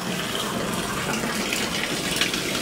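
Water gushes steadily from a tap in a Philippine home during Typhoon Kristine, a close, continuous rushing hiss that fills the whole stretch without a break and without voices.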